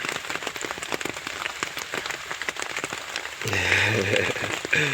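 Rain falls steadily on a campsite in Colombia at dawn, a dense patter of drops that swells louder in the last seconds, heard alone without talk.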